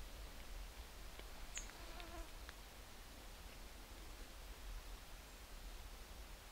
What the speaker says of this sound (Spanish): Y aparentemente había al menos mosquitos, pero ahora están empezando a llegar.